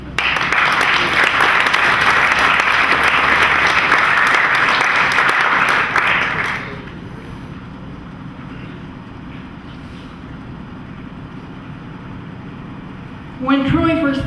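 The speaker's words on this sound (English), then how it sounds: "We'll clap for her as she comes up to the microphone." Audience at a Boys Republic graduation town hall bursts into loud, dense applause for about six seconds, then it drops to quiet room noise, with a short burst of sound returning near the end.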